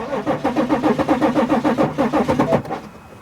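A BMW X5 engine with a crank-no-start fault cranks in a rapid, even chugging rhythm for about two and a half seconds before winding down without starting.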